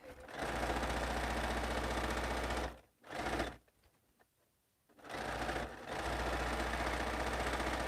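Sewing machine running in long steady bursts while stitching a quilt block, a close, even mechanical whir that stops briefly twice before starting up again.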